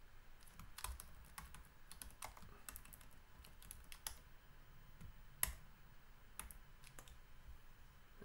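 Quiet typing on a computer keyboard while writing React code, with irregular bursts of soft clicks and a few sharper key taps spread across the stretch, no speech.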